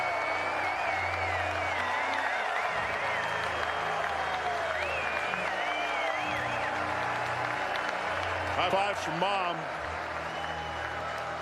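A baseball crowd at a 2018 NCAA Tournament game between Texas and Texas A&M applauds Cody Clemens' second home run of the night, a deep drive to right field. The clapping and cheering are sustained, loud and dense, with commentators talking over them.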